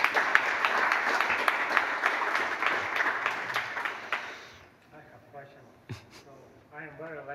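A conference audience at a software talk breaks into applause for about four and a half seconds, many hands clapping together, then it fades and a person begins speaking.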